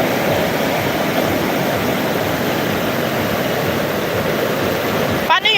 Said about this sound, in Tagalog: Pagka iyan, nagtuloy-tuloy pa ang ulan